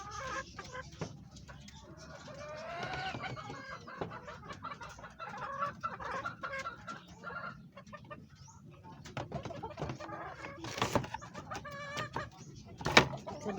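Chickens cluck and squawk in a steady chorus nearby, with occasional sharper calls and a brief loud burst near the end.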